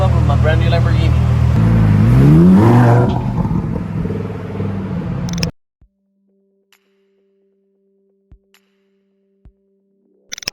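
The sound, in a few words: Lamborghini car pulling up, engine revving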